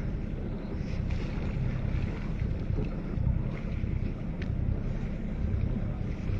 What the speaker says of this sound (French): un bateau bien entretenu qui sort du carénage